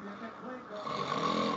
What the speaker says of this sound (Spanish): Es un ronquido fuerte.